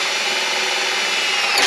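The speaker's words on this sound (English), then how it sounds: "go get a small drill bit in order to make my hole" Small drill bit boring a hole, a steady high-pitched whirring grind, close and loud, with no pauses over its short span.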